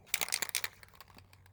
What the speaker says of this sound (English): I got acorns falling from the tree above.